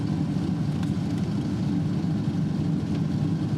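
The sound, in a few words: 1982 Corvette engine running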